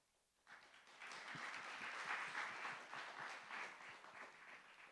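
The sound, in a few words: audience applause at hackathon closing ceremony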